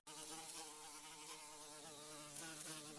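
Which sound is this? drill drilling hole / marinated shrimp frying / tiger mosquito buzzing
tiger mosquito buzzing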